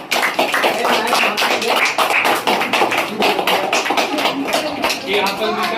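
A room full of people claps steadily and loudly for a student's standout NEET exam result, dense continuous applause with scattered taps and shuffles throughout.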